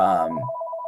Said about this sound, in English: that is my phone. Of course, people call when we stream.